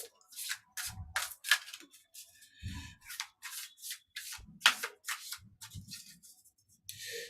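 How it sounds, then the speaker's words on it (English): Quiet, repeated papery riffles and slides of tarot cards being shuffled, in short bursts with brief pauses, close by. "as I shuffle these cards the last couple times"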